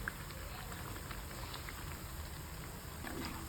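Vada lentil fritters frying in hot oil, giving a steady, even crackling sizzle that runs the whole time with no voices.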